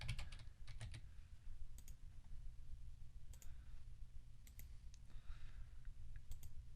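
Typing on a computer keyboard while drafting in AutoCAD, with a few quiet, scattered key clicks and taps, including a Ctrl-A and Ctrl-C copy, over a low steady hum.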